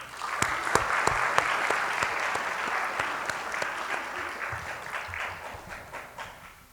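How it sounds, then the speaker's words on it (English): Graduates and guests at the Higher Ground Academy 2019 graduation give a loud, dense round of applause, with sharp individual claps cutting through the crowd, gradually thinning and fading toward the end. "please give yourselves a big round of applause"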